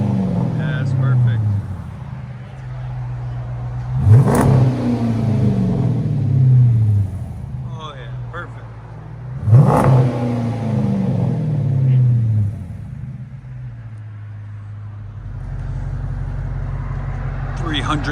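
A Chrysler 300C with a 5.7L V8 idles with a deep exhaust rumble and revs sharply twice, each rev swelling and falling back. Voices talk over it.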